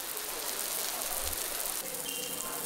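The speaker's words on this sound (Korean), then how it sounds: "우선 빗소리부터 들어보겠습니다." Steady rain pattering on a surface, a continuous broadband hiss heard on its own, though it could pass for batter sizzling in a pan on a Korean pancake show.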